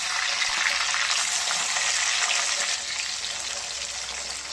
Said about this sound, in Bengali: এবার তেলের মধ্যে আমি টমেটোগুলো দিয়ে দিই।